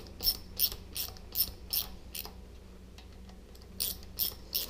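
A hand ratchet tightening oil pump bolts on a VW Type 1 engine, giving short bursts of rapid clicking in rhythmic strokes, close up and crisp over a quiet workshop background, with a pause midway before a final set of strokes.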